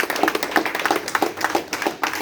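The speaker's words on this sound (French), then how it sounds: "Je vous demande de les applaudir." Audience applause at the 80th-anniversary gathering of the SIROCO club, a small group clapping with distinct, uneven hand claps close by for about two seconds, no voices over it.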